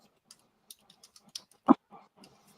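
Typing on a computer keyboard, a sparse run of separate key clicks with one louder thump partway through, close and quiet, with no speech.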